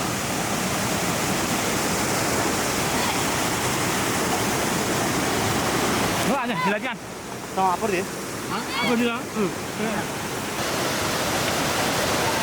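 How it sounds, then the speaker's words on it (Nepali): The Tirikyu river near Tangting village rushes in a loud, continuous roar close by, with a person speaking briefly over the water midway through. "तिरिक्यु खोला"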